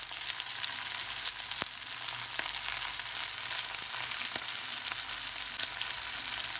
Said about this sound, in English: What I gotta do is just keep stirring it.